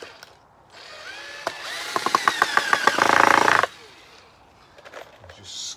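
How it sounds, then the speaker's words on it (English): A power drill drives screws into a wooden board for a compost bin front, with a rising whir, a run of rapid ratcheting clicks and then a loud sustained burst of grinding, all close by. "This is the board that I'm going to screw on."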